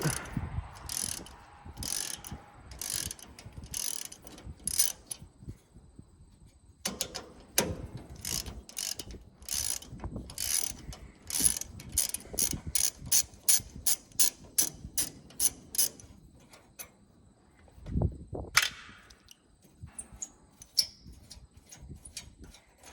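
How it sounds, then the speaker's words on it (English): Ratchet wrench with a 6-point socket turning small bolts on the bean head sickle of a Gleaner R52 combine, producing bursts of rapid metallic clicking in several runs with brief pauses, close and clear, no talk. "I always try and use a 6-point socket. That way it grips good and tight."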